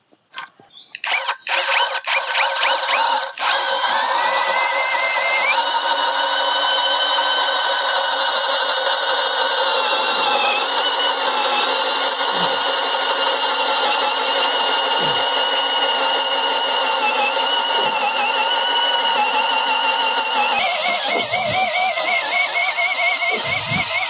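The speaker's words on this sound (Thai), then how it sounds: "ลองใช้กับดอกเจาะดินใหญ่ๆ แบบนี้ว่าจะเอาอยู่ไหมจะเจาะได้ไหม" An Emtop ECIDL20968 cordless brushless drill with a large earth auger bit bores into soil, its motor spinning up then holding a loud, steady high whine with slight dips in pitch as the bit bites.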